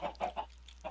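Chickens in the Minecraft video game give a few short clucks, three quick ones close together and then one more after a pause, faint and alone with no talk.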